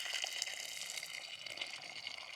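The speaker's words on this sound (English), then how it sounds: "the next step is just to pour a kettle of boiling water over." Boiling water pours from a kettle over crisscrossed tomatoes in a steady, faint, hissing splash that runs unbroken throughout, with no voices.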